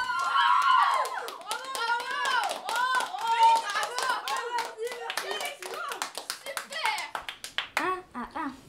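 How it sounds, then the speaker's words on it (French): Audience clapping at a live stage show after a song, a scattered patter of hands that thins out toward the end while voices talk and call out over it. "Bravo, applaudissez bien fort."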